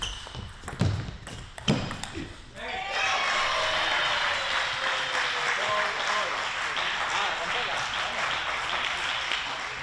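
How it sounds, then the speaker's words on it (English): An arena crowd roars at a 2025 Pan American Cup quarterfinal: a few hard thumps first, then a sustained, loud wash of cheering and clapping that holds steady to the end, with commentary running over it. "There's the crowd getting pumped up, trying to get Naresh into this match."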